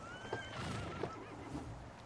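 A horse in a video game whinnies and snorts briefly, close by, with a soft background hum and a few faint clip-clop-like knocks.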